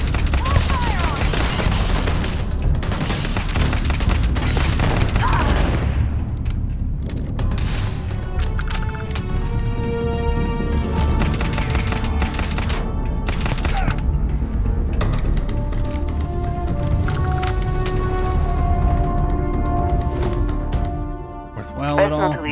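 Gunfire in the sci-fi game Starfield: rapid automatic bursts and repeated shots crackle loudly and almost nonstop, close and dense, with a voice talking over the firefight.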